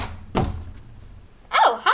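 A single solid thunk on a door lands close and sharp, followed by a quiet pause before a brief high squeaky voice-like sound rises at the end.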